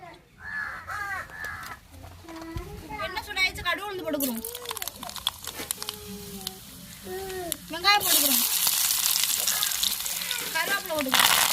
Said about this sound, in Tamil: நம்மளுக்கு சட்டி சூடாயிருச்சு எண்ணெய் ஊற்றிக்கிறோம்